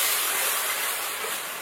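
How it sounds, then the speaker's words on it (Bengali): Mustard, ginger and green chilli paste with turmeric hisses and sizzles steadily in hot oil while being sautéed for a Bengali fish curry, loud and continuous with no talk. "সবকিছু দিয়ে এবার মশলাটা একটু কষিয়ে নেবো।"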